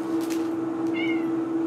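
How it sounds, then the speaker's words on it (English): A cat meows clearly, a short drawn-out call rising out of a steady low hum, with a faint background rustle. "And there's the cat again."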